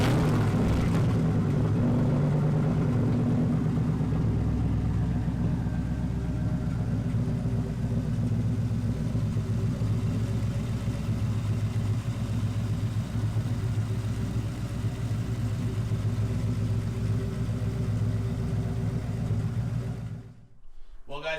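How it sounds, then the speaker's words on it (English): A 1999-2004 Mustang GT V8 with an Edelbrock Victor Jr. intake idles steadily nearby, a smooth, low rumble continuing unchanged for about twenty seconds before cutting off abruptly. "the car started up nice and it ran and sounded real good"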